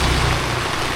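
Heavy tropical rain pours down on Siargao Island in the Philippines, a dense, steady broadband hiss with a low rumble underneath, loud and continuous throughout with no voices.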